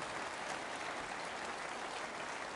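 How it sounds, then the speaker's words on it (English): A crowd at an election hustings in Leeds gives brief, continuous applause, a dense, even wash of clapping with no pauses or speech. "Round of applause, please, for Mr. Sunak taking my questions."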